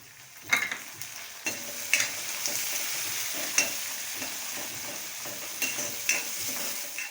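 Onion and tomato fry in a pan for dal pakwan. A soft, even sizzle is punctuated by several sharp clinks and scrapes as a spoon stirs against the pan, with no voices.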